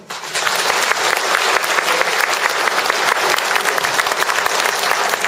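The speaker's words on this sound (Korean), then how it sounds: "그분 박수 좀 쳐주세요." A Won Buddhist audience gives sustained, dense applause at a New Year dharma talk, many hands clapping steadily and loudly for about five seconds without a break.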